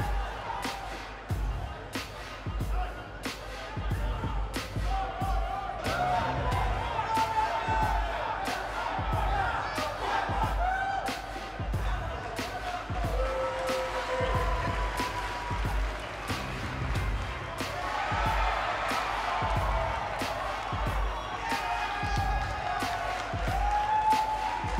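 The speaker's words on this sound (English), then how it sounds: "this is the one this sold-out crowd came to see" A sold-out arena crowd roars and cheers at an NJPW New Year's Golden Series singles wrestling match, Tomoaki Honma against Great-O-Khan, a sustained loud din broken by rhythmic slams and surges of shouting.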